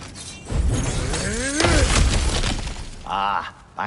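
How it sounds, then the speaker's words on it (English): Objects smash and shatter in God of War Ragnarok in a burst of crashing breakage with glassy debris, followed by a second, shorter smash near the end. A voice speaks briefly amid the destruction. "Ah, back to smashing through things for fun and profit."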